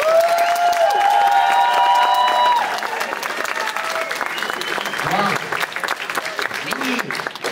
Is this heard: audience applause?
yes